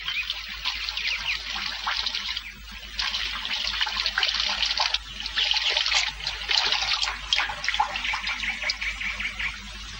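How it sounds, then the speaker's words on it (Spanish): Water streams through small holes in a container like a shower, a steady bright spray that runs on with brief breaks and no voices over it. "el agua sale por los agujeritos como una ducha"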